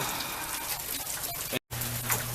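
Rain falling in a backyard, a steady, dense hiss of drops that carries on throughout with one brief cut near the end, no voices.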